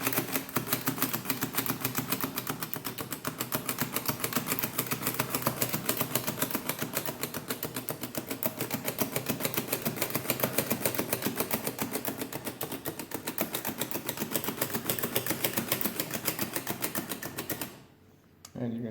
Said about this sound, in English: press all the buttons on the keyboard, and it should be 4, 9, and 5 in the last digit